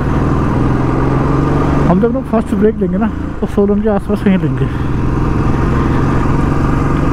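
A motorcycle engine hums steadily while riding on a mountain road toward Dharampur, with someone talking over it in the middle of the stretch.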